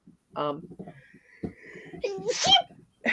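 A single sneeze bursts out amid someone talking, a sharp explosive exhale with a brief voiced tail.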